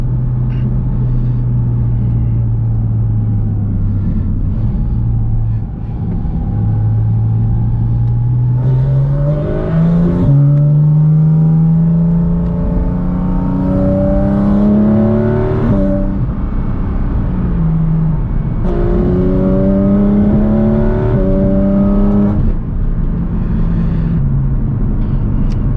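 A 2023 Porsche Cayman GT4RS engine pulls hard through the gears from inside the cabin, with loud rising revs, brief dips at each shift and a strong droning roar throughout.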